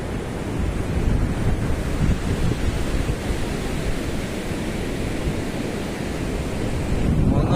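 Rough, churning sea surf at Mandarmani beach during light rain, a dense continuous roar of breaking waves with gusty wind buffeting the microphone, steady and loud throughout with no voices.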